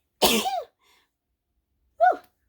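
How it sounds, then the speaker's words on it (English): A sudden, forceful sneeze bursts out up close, followed after a short pause by a second, smaller sneezing sound. "I'm going to sneeze."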